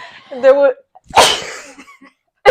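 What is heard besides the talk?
sneeze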